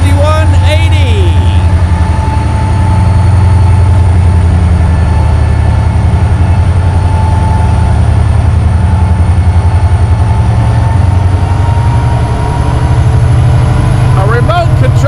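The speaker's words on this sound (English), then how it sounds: "A remote control locomotive at work here at the south end of the Debutts yard." A Norfolk Southern remote control locomotive works in the rail yard with a loud, continuous low diesel rumble. A steady tone sits above it, brief squeals and clanks are heard near the start and end, and faint voices pass under the noise.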